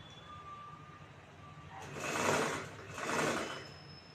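A sewing machine stitches the neckline of a blouse in two short whirring runs, each lasting under a second, close and moderately loud against a quiet room.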